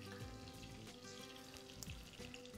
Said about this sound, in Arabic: والفراخ عندي بتستوي اهي.